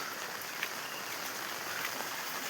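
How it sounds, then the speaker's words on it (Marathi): Light rain falls in a forest, a soft, steady hiss of fine drops on leaves and ground, faint and continuous with no talking. "पाऊस जरा पडता बारीक बारीक."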